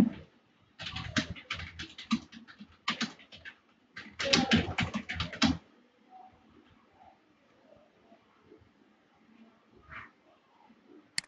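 Bursts of rapid key clicks as a line is typed on a computer keyboard, dense clattering runs separated by short pauses, then quieter sparse taps fading toward the end.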